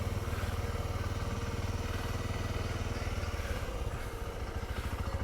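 A 2020 Voge 650DS (Loncin DS8) motorcycle engine runs steadily while riding, a loud, close, rapidly pulsing drone that holds an even pitch throughout.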